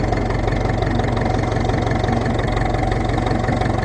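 A Ferguson TEF20 tractor engine crawls slowly along in second gear, its steady low chugging drone holding even and close throughout with no one speaking.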